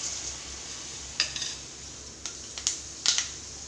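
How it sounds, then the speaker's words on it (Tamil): Mustard and fenugreek seeds fry in hot sesame oil in a pan for bitter gourd tamarind curry, giving a steady faint sizzle broken by several sharp pops and crackles, with no talking. "வெந்தயம் நல்லா பொரிஞ்சிச்சு,"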